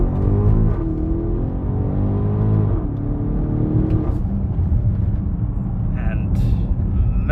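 A 2021 BMW X5 M50i pulls away hard, its engine note climbing steadily, then stepping down at a gear change and building again, loud and close from inside the cabin.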